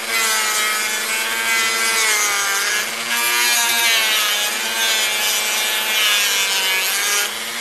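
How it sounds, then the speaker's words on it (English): A Dremel with a drum sander attachment shapes a wooden fingerboard, producing a loud, continuous, close grinding whine with slight pitch wavers as pressure shifts, with no voices. "the drum sander is really nice to have on the Dremel, because you can use it in your hands"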